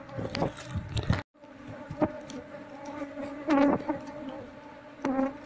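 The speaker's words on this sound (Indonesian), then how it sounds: "ini koloni lebahnya sangat agresif sekali" An aggressive honey bee colony, freshly pulled from a pile of wood, makes a dense, continuous buzz of many bees close by. Louder swells rise as individual bees pass near, and no one speaks.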